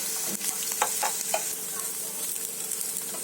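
Onions frying for chicken changezi, alongside cashews and coconut, give a steady close sizzle with a few soft stirring scrapes and small pops, no voices.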